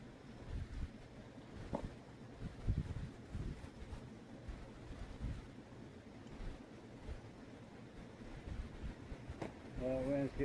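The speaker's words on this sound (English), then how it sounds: "the wind's getting strong" Strong wind gusts buffet the microphone outdoors beside an ultralight tent, with low rumbling blasts that rise and fall throughout and a person speaking near the end.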